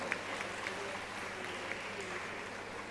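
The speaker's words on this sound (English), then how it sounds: "big round of applause" Applause from the audience at a college annual alumni meet in a hall, a steady wash of clapping held at an even level for a few seconds with no voices over it.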